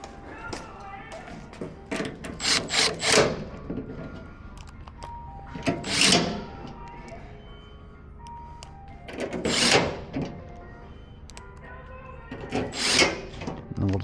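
The last screws go into a Traeger Woodridge grill during assembly. There are a few separate bursts of close ratcheting, grinding driver noise with quiet gaps between them and a light hum underneath.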